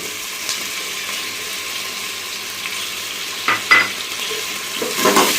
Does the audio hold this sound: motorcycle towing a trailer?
no